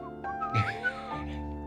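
A short whistled melody rising and falling over steady background hum, fairly close, lasting under two seconds.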